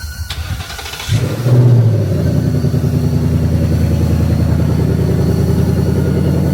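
A Ford Mustang GT V8 starts up with a sharp catch, flares loudly, then settles into a steady, close, rumbling idle with a throbbing low pulse that carries on unbroken.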